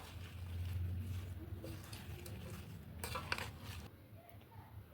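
Mango pieces stirred slowly with spices in a bowl for a garlic mango pickle, soft scraping and light clinks of a spoon, faint and close.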